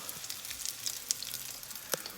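Faint, crackly sizzling of flour-and-egg battered fish frying in oil in a pan, with scattered sharp pops and spits over a quiet background.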